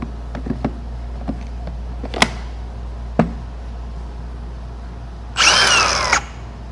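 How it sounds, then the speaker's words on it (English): A battery-powered angle grinder spins up in a short, loud whine lasting under a second, then cuts off abruptly as its rapid-stop brake halts the disc. A few scattered clicks and handling knocks come before it. "This is the rapid stop safety feature on the angle grinder."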